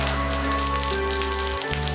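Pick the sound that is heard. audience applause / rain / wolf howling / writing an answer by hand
rain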